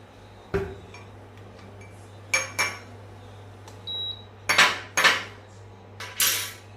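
Metal spoon clinking and scraping against a cup while mixing coffee with milk powder, milk and a spoonful of honey, heard as several separate sharp clinks, fairly close and otherwise quiet.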